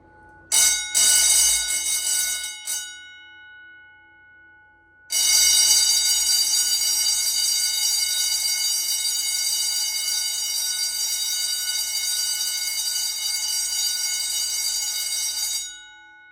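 Two 439D fire alarm bells ring loudly and continuously at close range, a brief burst first, then a pause, then a long sustained ring before cutting off.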